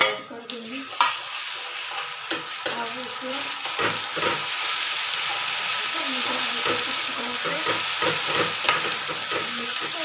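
Masala with ginger-garlic paste frying in a pan over a low flame, chana dal pakora curry in progress: a steady close sizzle with repeated stirring scrapes and clinks throughout, no talk.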